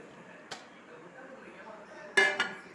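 Lentil dough for paruppu urundai being moved into a large cooking vessel, heard as a single metallic clink early on, then a sharper clatter and a second knock close together near the end, over a quiet kitchen background.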